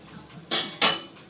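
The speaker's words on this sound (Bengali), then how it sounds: "সমস্ত আমগুলো কিন্তু জল ছেঁকে আমি একটা থালায় তুলে নিচ্ছি" Boiled mangoes are lifted from a pot onto a plate, giving two sharp metallic clinks of utensil against dishware in close succession, near and distinct over a quiet background.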